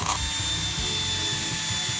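A large electric drill motor whirs steadily with a high mechanical whine and a grinding, ratchety rattle, running loud and close without pause.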